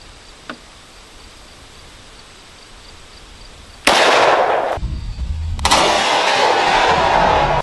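A .45 ACP round fired from an HK pistol at a ballistic plate outdoors. A small click comes first, followed by a sharp, loud blast and then a second loud burst with sustained noise.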